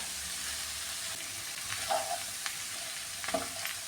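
Ivy gourd and carrot fry in a hot pan, giving a continuous close sizzle with a few sharper crackles and stirring scrapes.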